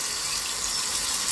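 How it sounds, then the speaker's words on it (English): Tap water running steadily over partly thawed frozen shrimp in a kitchen sink, a close continuous hiss and splash with no voices. "I just let the water run over it, kind of break it up a little bit."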